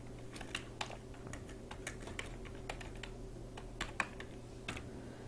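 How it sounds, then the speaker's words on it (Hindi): Keystrokes on a computer keyboard while entering employee details into an Excel travel expense report, a steady stream of soft, irregular clicks at moderate distance over a constant low electrical hum. "सबसे पहले एम्प्लॉई की जो डिटेल है वो यहाँ पर टाइप कर लेते हैं।"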